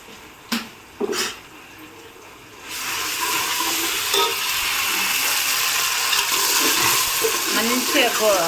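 Ingredients for a Telangana-style fish curry sizzle in a pan, starting after a couple of light clinks and then holding a loud, steady frying hiss with occasional stirring scrapes.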